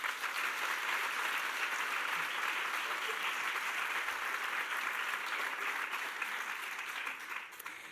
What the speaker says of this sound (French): qui méritent de grands applaudissements de nous tous.